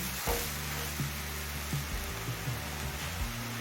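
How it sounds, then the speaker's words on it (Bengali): Mashed kochu (taro) leaf is stirred in a hot pan with the lid off, giving a steady sizzle with scraping strokes of the spoon at regular intervals. "ঢাকা খুলে একটু নাড়াচাড়া করে নিলাম"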